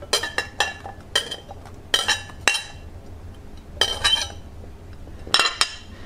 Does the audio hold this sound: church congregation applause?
no